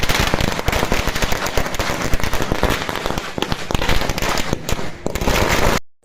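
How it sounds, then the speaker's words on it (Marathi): A dense, loud barrage of firecrackers and fireworks bursts continuously in rapid crackling pops at a welcome celebration with dhol and tasha drums, then cuts off abruptly. "ढोल तासांचे फटाके आतषबाजी करण्यात आली"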